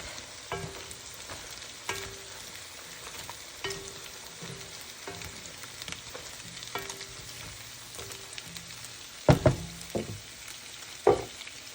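A Panda Express copycat dish is stirred in a pot, with soft scraping and clinking under a quiet sizzle and a few sharper clanks near the end.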